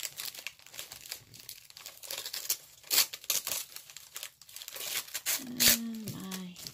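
Paper bags being trimmed and handled, with close crinkling, rustling and short tearing sounds in irregular bursts, ending in a brief tonal squeak.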